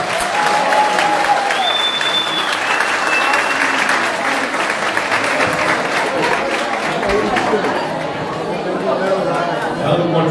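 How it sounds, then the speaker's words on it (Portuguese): Dense audience applause and cheering for a trombonist at a live band show, steady throughout, with crowd chatter and a few whistles mixed in. "um aplauso,"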